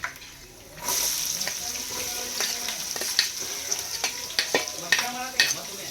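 Mustard seeds, cumin, peanuts and onion sizzle in a hot pan in a home kitchen, a steady close frying hiss that starts abruptly and carries on with scattered pops and crackles, with no talk.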